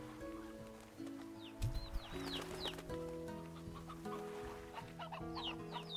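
Chickens in the farming video game Slime Rancher cluck and chirp in scattered short bursts over steady tonal game music, sitting fairly quiet in the mix.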